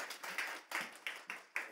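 A small congregation at a Friday prayer meeting claps in unison, about seven quick rhythmic claps, fairly close and moderately loud, with no talk over them.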